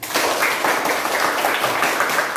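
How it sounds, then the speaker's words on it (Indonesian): A classroom audience applauds group 1 after their performance in an Indonesian-language lesson, steady close clapping from many hands running throughout. "Berikan tepuk tangan untuk kelompok 1."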